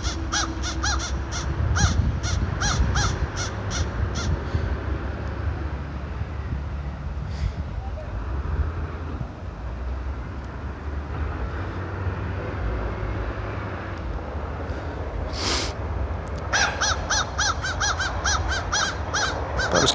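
A small flock of crows caws near a bald eagle at an icy shoreline: bursts of repeated harsh caws at the start, in the middle and at the end, over steady outdoor wind and rumble.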